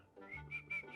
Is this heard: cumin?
no